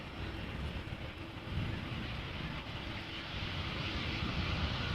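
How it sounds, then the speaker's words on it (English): A Boeing 787 Dreamliner airliner arriving at Amsterdam Schiphol Airport, heard as a steady broadband jet engine rumble and roar at a distance, rising slightly partway through, with no talk. "it looks like a Dreamliner 10 arriving after that"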